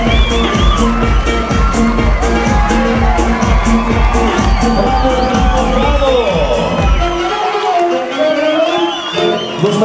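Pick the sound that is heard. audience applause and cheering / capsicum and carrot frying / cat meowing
audience applause and cheering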